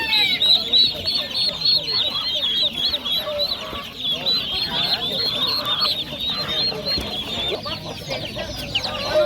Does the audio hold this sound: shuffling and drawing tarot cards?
no